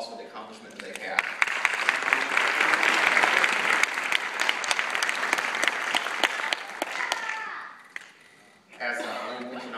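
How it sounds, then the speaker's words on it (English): An audience at a homeschool graduation ceremony applauds the graduates with sustained, dense clapping that swells and holds for several seconds, then breaks off, followed by a brief bit of chuckling and talk. "I want to again give them another round of applause for the accomplishment that they have."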